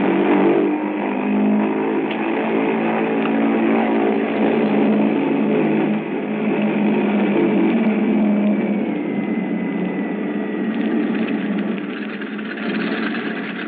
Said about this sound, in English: we were completing our engine run up at the head of the runway